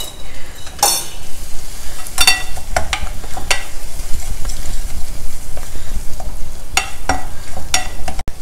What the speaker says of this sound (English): just stir it for about a minute or so